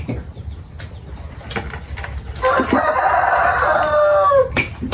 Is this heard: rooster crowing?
yes